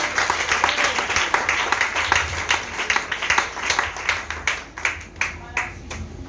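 Church congregation applauding together during a worship service, a steady dense clapping that carries on then thins slightly toward the end, with voices mixed in.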